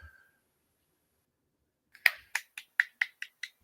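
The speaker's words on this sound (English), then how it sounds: "I hear claps" A handful of sharp claps in quick succession after a long quiet stretch, crisp and fairly close, from someone watching a League One football match between Barnsley and Stevenage.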